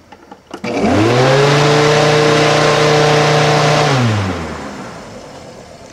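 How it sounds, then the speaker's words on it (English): A treadmill motor spins up after a click, holding a loud, steady whine before winding down and fading out as it slows, with no talking. "I think you can hear the motor slowing down because the windings are heating up and the resistance is increasing"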